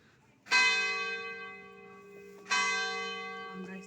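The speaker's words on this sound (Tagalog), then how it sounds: "Magsona na yung kampana. It's 12 o'clock in the afternoon." A church bell tolls at noon, two clear resonant strikes about two seconds apart, each ringing out and slowly decaying, fairly near and alone.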